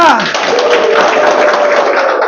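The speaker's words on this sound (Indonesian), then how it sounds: "Tepuk tangan buat kita semua." Applause from a crowd, dense and steady throughout, with a voice rising briefly over the clapping near the start.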